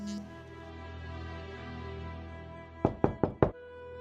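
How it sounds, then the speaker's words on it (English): Four sharp, evenly spaced knocks strike a side door, loud and close, landing near the end after a quiet stretch of music-like background. "soon his father came knocking at one of the side doors"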